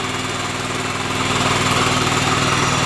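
A walk-behind tractor's small engine, driving a self-excited generator, runs steadily at close range with a loud, buzzing drone that builds slightly and holds even throughout.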